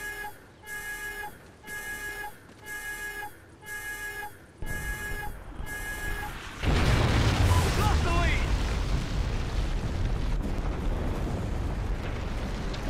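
Explosions tearing apart the map in Call of Duty Ghosts: a repeating electronic alarm tone pulses several times, then a huge blast erupts into a sustained roaring rumble and crumbling debris, with people talking faintly underneath.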